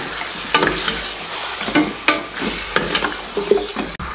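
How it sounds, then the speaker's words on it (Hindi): Beef sizzles and fries loudly in a pot over medium flame while a spoon scrapes and stirs it repeatedly, with clanks against the metal. "गोश्त को अच्छे तरीके से भुनाई कर लें"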